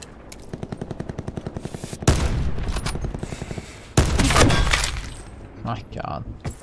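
Video game gunfire with sniper shots: a rapid, steady burst of automatic fire, then two loud, sharp blasts that ring out and decay, with softer clatter toward the end.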